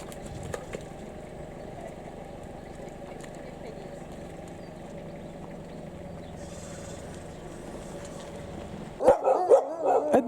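Dogs out on a New Forest country walk near Wootton Bridge and Avon Water, with a few short barks and yips at the end, close by and mixed with people talking over steady outdoor background noise.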